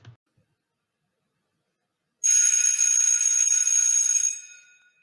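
A school bell rings alone for about two seconds, a bright continuous metallic trill at moderate level after a brief silence, then fades out.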